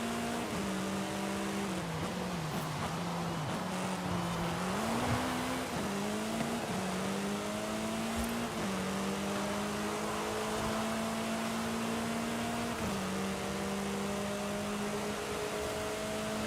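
A Porsche racing car engine in a racing video game roars steadily, its pitch climbing and dropping with each gear shift, loud and continuous with no voices.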